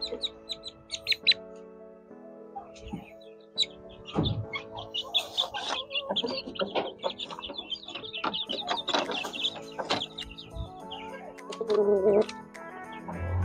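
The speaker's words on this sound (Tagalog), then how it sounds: "Yun po yung mga ibinibenta nating Shamu chicks ngayon." Shamo chicks give frequent soft peeps and clucks up close, some overlapping, with no speech.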